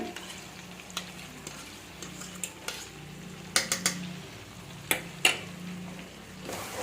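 Chicken for Bengali-style pulao fries with sour yogurt in a pan, a low sizzle under a series of sharp metallic spoon scrapes and clacks as it is stirred, no voices.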